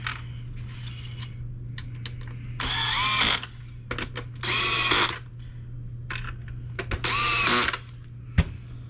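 A power driver whirs in three bursts, running screws into a Shark Rotator NV501 vacuum under repair, with light clicks and handling of parts between runs and a steady low hum underneath.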